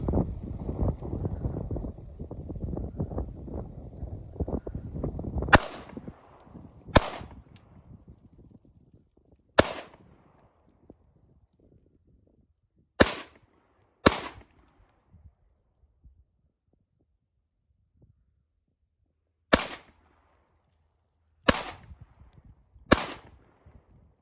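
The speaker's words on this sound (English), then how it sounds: "I'm gonna fire 8 rounds and just see what happens" Eight sharp shots from a Bersa BP9cc pistol ring out at uneven intervals on an outdoor range, each cracking loud and close, after a stretch of heavy wind buffeting the microphone.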